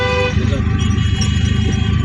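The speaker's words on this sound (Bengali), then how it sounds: "এখন আসছে এখানে একটা হরণ দেন" A vehicle horn sounds loudly and close for about two seconds as a steady toot, over road and engine noise on a drive, with a voice talking near it.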